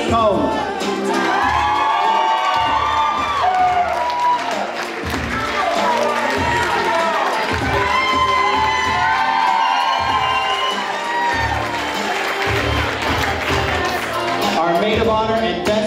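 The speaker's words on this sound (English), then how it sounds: "Let's have a round of applause for Christina Covarrubias and Chuck Combs." Wedding guests applaud and cheer loudly, with whoops and shouts from a crowd in a reception hall, sustained and close, with voices mixed into the noise.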